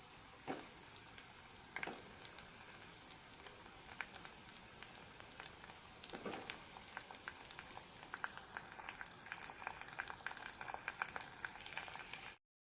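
Pumpkin pieces fry in a pan for chicken biryani, a steady close crackling sizzle with scattered sharper pops and stirring clicks, continuing without a break until a sudden stop at the end.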